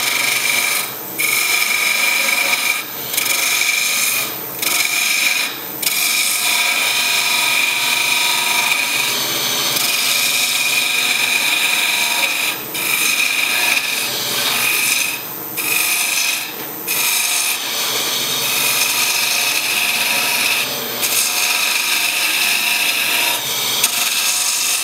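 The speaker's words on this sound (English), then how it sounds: "It's running very true. I'll get a spindle gouge and work on that." A spindle gouge cuts a birdhouse ornament spinning on a wood lathe, a steady raspy scraping that runs continuously, broken by brief pauses as the tool is lifted from the wood.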